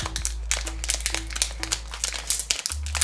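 Small plastic packets are crinkled and torn open up close, a rapid series of sharp crackling rustles with irregular bursts and a low steady hum underneath, no talk.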